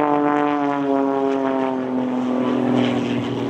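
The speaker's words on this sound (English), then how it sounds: "It is literally just hanging on that three-bladed prop." Pitts S2S biplane with an 8.5-litre six-cylinder engine and a three-bladed propeller flying an aerobatic display, a loud, steady propeller and engine drone whose pitch slowly sinks, heard throughout.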